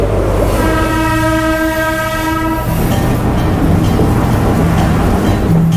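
At a Colombo railway station, a train sounds a long, loud, chord-like horn for a couple of seconds, followed by the heavy rumble and clatter of the train moving close by; no talking.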